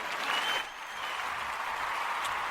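Applause from a crowd, steady and moderately loud throughout with a brief dip partway, for a celebrity introduction at a radio-style show.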